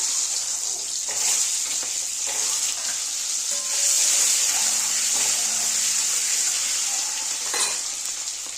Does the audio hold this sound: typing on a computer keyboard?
no